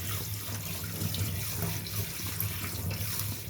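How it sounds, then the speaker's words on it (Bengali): Tap water runs steadily into a kitchen basin sink while fresh homemade paneer curds are rinsed under it, a continuous close splashing stream with no pauses and no voices. "এবার আমি এই ছানাটাকে একটু বেসিনের জলে ভালো করে ধুয়ে নেব"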